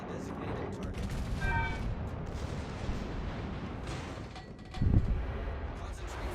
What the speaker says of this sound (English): I do get a nice little 3k salvo on that DD